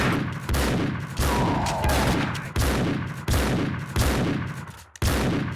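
Repeated heavy gunfire bursts from the video game Max Payne 2, loud, close shots and volleys arriving in a steady rhythm roughly every second, with no talking.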